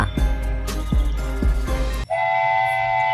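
A train rumbles along with rhythmic clattering wheel beats, then sounds a sustained whistle or horn at the end, alone with no voices.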